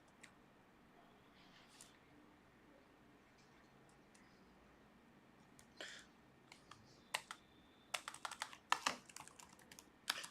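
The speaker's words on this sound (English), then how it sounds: "Okay, so I am typing in the placement portal link." Typing on a computer keyboard, faint and sparse at first, then quick bursts of sharp clicking keystrokes near the end, with a quiet background and no speech.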